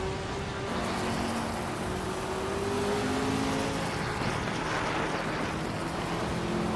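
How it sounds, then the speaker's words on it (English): A 1970 Ford Mustang Boss race car in a vintage Trans Am race, its engine droning steadily at a distance amid other racing cars, with a faint rising tone and no talk. "Lobardo's driving a 1970 Ford Mustang Boss in the vintage Trans Am class."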